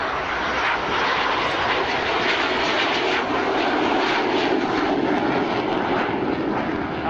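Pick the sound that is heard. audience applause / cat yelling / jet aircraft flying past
jet aircraft flying past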